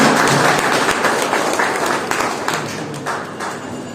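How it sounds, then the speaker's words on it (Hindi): Applause at an award ceremony during a birth-anniversary celebration for Samrat Ashoka and Dr. Bhimrao Ambedkar, a loud crowd of many people clapping together, strongest at the start and gradually tapering off. "जोरदार तालियों के साथ अभिनंदन"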